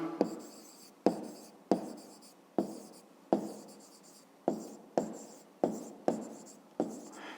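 A pen writes on notebook paper close up in a quiet room, making about ten crisp taps and scratches at irregular intervals, each fading quickly.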